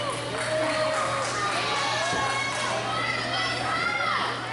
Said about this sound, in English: All these fans you keep hearing cheering throughout the building